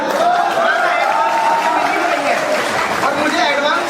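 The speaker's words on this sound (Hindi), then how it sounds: "तो फिर दिल खोलकर एक बार और तालियां बजा दीजिएगा" An audience at a kavi sammelan, a Hindi poetry gathering, breaks into a dense, steady wash of applause and crowd noise that holds evenly throughout, fairly loud.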